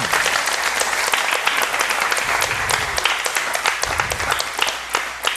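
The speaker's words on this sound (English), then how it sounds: "And then we clap because it's time." A church congregation claps together during a sermon, steady dense applause filling the room at close range with a few louder individual claps standing out.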